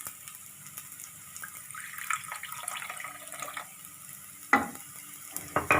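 Room-temperature water is poured into a pan holding a handful of rice for payasam, a soft, fairly close trickle and splash with a few brief clatters near the end.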